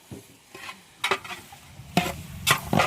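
Turmeric is stirred into a large cooking pot while food is prepared for a wedding meal for 400 guests, with a few scraping stirs over a light sizzle, close and without talking.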